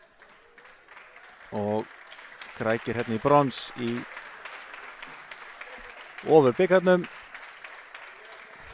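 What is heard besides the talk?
volleyball teams applauding each other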